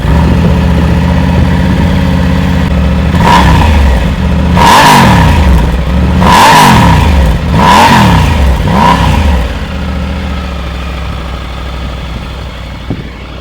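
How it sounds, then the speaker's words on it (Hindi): A Triumph Tiger 900 Rally Pro motorcycle with a barrel exhaust idling with a deep rumble, then revved hard several times in quick bursts before settling back to a low idle. "अभी इस एग्जॉस्ट का हम लोग आवाज़ सुनते हैं।"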